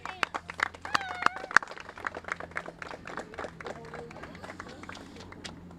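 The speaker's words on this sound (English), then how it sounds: "Let's give a round of applause." A small outdoor crowd at a park playground ribbon cutting gives scattered, moderate applause, uneven claps that thin out and fade, with voices chattering around them.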